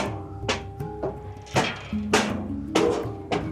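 Heavy, uneven footsteps thumping up hotel stairs one by one, close by, with some background hum.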